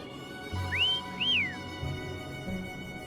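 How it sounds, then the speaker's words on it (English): Two clear rising-and-falling whistle notes from a character calling Foam in Wuthering Waves, fairly loud over a low game music bed. "Try whistling."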